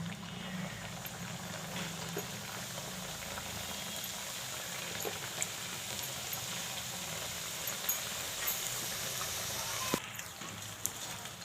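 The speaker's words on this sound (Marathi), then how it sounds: "मी आता 4-5 करंज्या घालून व्यवस्थित तळून घेते।" Four or five jaggery-filled karanji pastries deep-fry in hot oil, making a continuous low bubbling sizzle with scattered small crackles and pops, heard alone.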